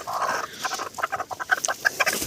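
A bantam hen clucks in a rapid, uneven series of short, close calls, loud and alone.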